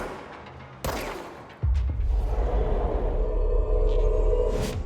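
Video game gunfire erupts as a sudden loud crack followed by a sustained rumbling barrage of shots and explosions, close and heavy, with no talking over it.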